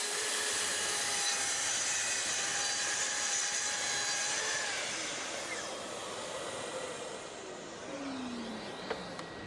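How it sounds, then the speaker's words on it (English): Festool TS55R plunge saw cutting through wood at a 12 mm depth, a loud, steady close whine with the blade biting the board, easing slightly toward the end before a small knock; no speech. "a lovely little cut here, and it can all be done with a saw"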